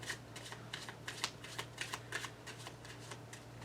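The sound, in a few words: shuffling a deck of playing cards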